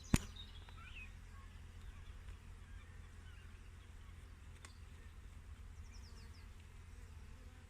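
Honey bees hum faintly and steadily around an opened hive during an inspection, with a soft scrape and sharp tap near the start and the buzz continuing alone afterward.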